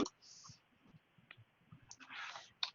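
Typing on a computer keyboard: quiet, scattered key clicks in an irregular rhythm, heard close up with no talking.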